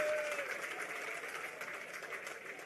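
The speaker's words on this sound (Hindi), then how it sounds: "जोरदार तालियां बजा के एक बार उनका अभिनंदन कीजिए।" Aam Aadmi Party workers at a New Delhi rally clap together, a crowd applause strongest at first and slowly easing, heard fairly faint and far off, with voices mixed in.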